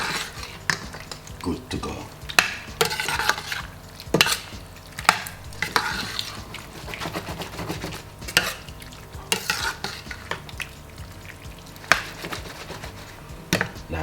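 Curry prawns being stirred in a pan for a Caribbean-style dinner, with repeated utensil scrapes and clinks against the pan over a soft sizzle, while a voice speaks briefly.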